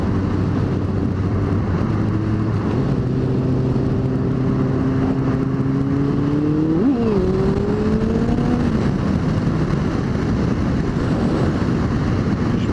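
Motorcycle ridden out on country roads, a constant engine drone wrapped in wind rush, its pitch climbing and then shifting sharply about midway before settling again.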